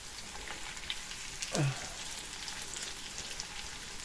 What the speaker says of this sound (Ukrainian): а другу сторону смажу, не накриваючи кришкою.